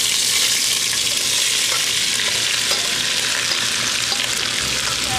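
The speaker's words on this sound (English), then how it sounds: "Now time for our onions, and I know they cook down quite a bit because they have so much moisture in them" Onions sauté in olive oil in a warm pan, giving a steady, close sizzle that runs unbroken and fairly loud with no voices over it.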